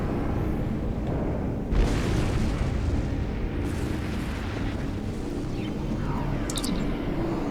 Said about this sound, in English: Looks like the Undine destroyed the Borg cube before we had a chance